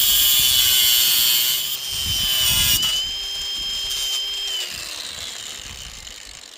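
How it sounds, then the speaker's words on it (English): An angle grinder bites through rusted rail joint bar hardware, a loud continuous high-pitched whine and grinding that shifts in pitch as the disc is worked back and forth, running steadily throughout. "we have to use the angle grinder to cut it all off"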